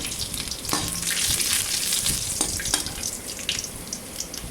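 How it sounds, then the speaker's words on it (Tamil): Cooked rice being stirred into a cumin tempering in a pan for jeera rice, giving a steady soft sizzle with scraping stir strokes and a few sharp clinks, no talking. "நம்ம உதிரியாக வடித்து வச்சுருக்க சாதத்தை இந்த தாளிப்போட சேர்த்து கிளறிட்டோம்னா ஜீரக சாதம் ரெடி"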